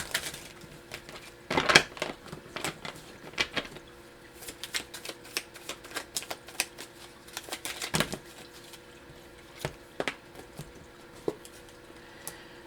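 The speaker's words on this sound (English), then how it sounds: "let's pull some journaling cards for you" Journaling cards are pulled from a deck and shuffled, giving sparse, soft papery flicks and clicks with quiet pauses between them, close by and with no talking.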